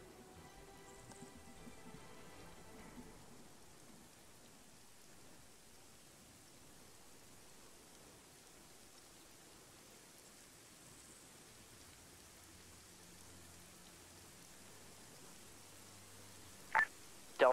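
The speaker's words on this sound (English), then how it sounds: "rain in the desert" Rain falls in a desert in the video game Arma 3, a faint, steady hiss of drops under soft background music, ending with two sharp, brief clicks.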